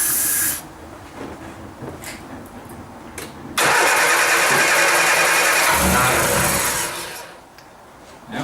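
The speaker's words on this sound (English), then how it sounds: "let's have a go at starting it" Triumph Herald engine cranking on easy start spray, preceded by a short hissing spray burst, then a loud, steady cranking run lasting several seconds that fades without the engine catching.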